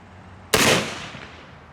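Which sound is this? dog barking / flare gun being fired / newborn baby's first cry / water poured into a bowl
flare gun being fired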